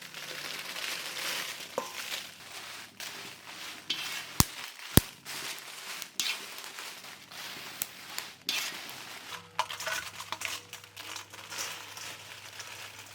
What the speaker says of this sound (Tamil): கடைசியாக நம்ம மிளகாய் வறுத்துக்கலாம்.